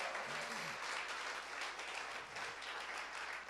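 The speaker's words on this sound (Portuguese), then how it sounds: "só um aplauso para Jesus daqui a pouco." Church congregation claps together in a sustained, fairly quiet round of applause heard from a distance, with a brief voice or shout rising faintly near the start.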